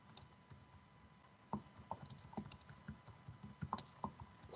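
Rapid, irregular keystrokes on a computer keyboard during data entry at a clinical records demonstration, close and fairly quiet, with clusters of sharper clicks and brief pauses.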